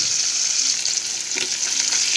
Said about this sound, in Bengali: এখন আস্তে আস্তে আমরা মাছগুলো দিয়ে একটু ভেজে নেব